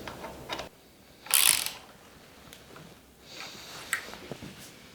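A ratchet wrench tightens bolts while fitting a rally tower onto a Honda CRF250L or CRF300L motorcycle, giving a short close clicking burst followed by faint scattered tool noises.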